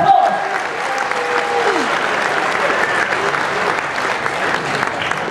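An audience claps steadily and fairly loudly through a live singalong performance, with scattered voices and faint tones over the applause.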